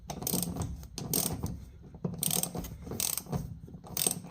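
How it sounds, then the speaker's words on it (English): A large ratchet working a stubborn seat bolt on a 1984 Jeep Grand Wagoneer, rapid clicking pawl bursts in three or four close, loud strokes separated by short pauses. "Just had to get a bigger ratchet."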